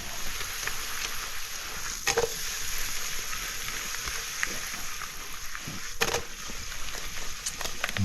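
Salmon dusted with garlic powder fries in a hot pan, giving a steady, close sizzle with a few sharp clatters of a utensil against the pan.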